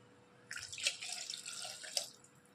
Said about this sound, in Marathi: आणि आता आपण यामध्ये 2-3 कप पाणी टाकू.